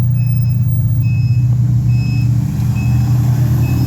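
A 1993 truck with a two-stroke Detroit Diesel 6V92 engine pulling out, a loud steady low diesel drone close by, with a faint intermittent reversing beep tone repeating above it.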